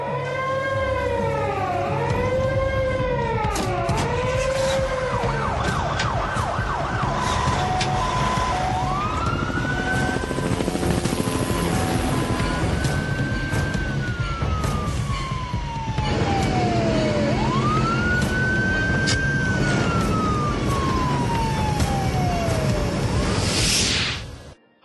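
Multiple emergency vehicle sirens, wailing and yelping police, fire and ambulance types, sound continuously and loudly as crews prepare at an airport for the crash landing of an Air Transat airliner, with sweeping tones rising and falling throughout.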